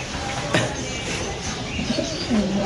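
Spanish pigeon hens at a pigeon farm give soft rolling coos near the end, after a sharp click early on, over a low background hum.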